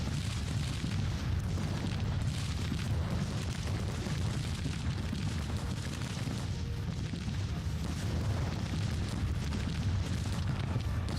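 Cannon and rifle fire from a Civil War battle in the game Grand Tactician, a steady low rumble of booms and distant volleys rolling on without a break, with no talk over it.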